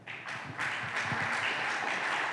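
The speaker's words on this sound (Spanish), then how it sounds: "Un aplauso para esta niña, ¿vale?" Applause for a young girl at a commemoration of Martí: a brief burst of steady clapping from a modest audience, moderately distant and fairly soft.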